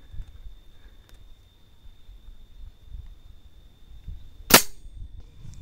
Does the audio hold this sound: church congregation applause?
no